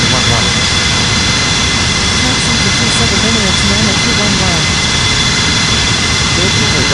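Jet airliner engines, an Airbus A340-600 or a Boeing 777-300ER, give a loud, continuous roar with a whining edge, steady and close, while radio voices talk over it.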